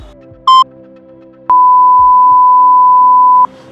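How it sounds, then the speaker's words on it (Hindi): Volkswagen or Skoda car chime on opening the driver side door: a short electronic beep, then a loud, steady sine-like tone held for about two seconds, clear and close inside the cabin. "अभी ओपन करते ही बीप भी बजने लगा"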